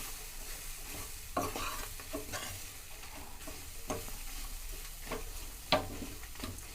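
Food, a small amount of horse gram for basale (Malabar spinach) saru, sizzles steadily in a hot pan, with occasional scraping stirs and a sharper clack near the end; no talking.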